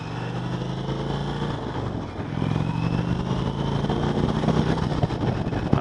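A 2020 Indian Chieftain Elite motorcycle rounds a corner, its engine droning steadily, dipping briefly, then rising into a fuller, louder rumble.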